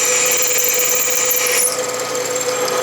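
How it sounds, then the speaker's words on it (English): Drill press boring into a cast iron vise jaw, a loud steady whine with a high squeal that shifts partway through as the bit cuts on. "now I'm drilling into the jaw."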